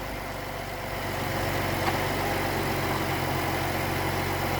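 2014 Jeep Cherokee with misfire codes on cylinders one through six idling steadily, a close, even engine hum with a low, constant rumble and no talking.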